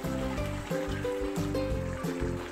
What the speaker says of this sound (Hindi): अभी इसमें 1/2 कप के बराबर पानी ऐड करेंगे।